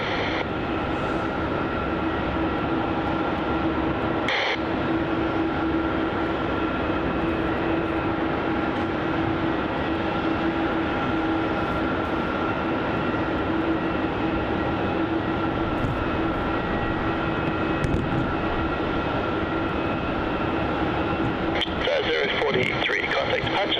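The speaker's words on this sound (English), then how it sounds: "Here goes that Dreamliner for Jetstar." A Jetstar Boeing 787 Dreamliner airliner departs Melbourne Airport, its jet roar steady and broad throughout, with live air traffic control radio and a commentator talking over it.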